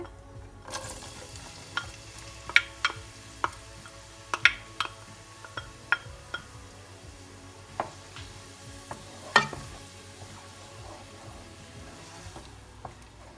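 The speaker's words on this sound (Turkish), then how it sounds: "Şimdi soğanları ekliyorum." Onions sizzle steadily in hot olive oil for green beans, with scattered sharp pops and crackles over a low, constant frying hiss; no talking.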